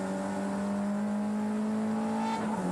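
A Nissan touring car at the 1987 James Hardie 1000 races, engine roaring hard and steady under heavy throttle as it pulls through the gears, close and loud, with a brief dip near the end like a shift.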